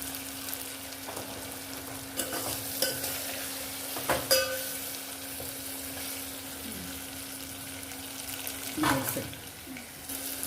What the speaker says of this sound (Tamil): இந்த அரைச்சி வச்ச மசாலாவை நல்லா வதங்கியிருக்கு பாருங்கள் வெங்காயம் தக்காளி எல்லாமே நல்லா வதங்கிட்டு இருப்பேன்